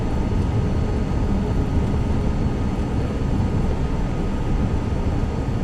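Steady, loud broadband drone of a small aircraft engine in Microsoft Flight Simulator 2024, running continuously on a runway with no gaps or talk.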